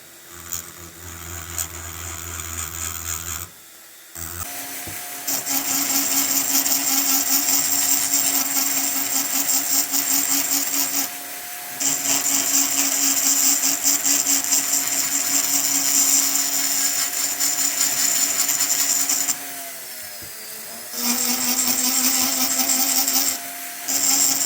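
A power tool grinds and blends the metal of a P42 piston into its main body, giving a loud, high, sustained whine in long runs separated by a few brief pauses where the tool stops and restarts.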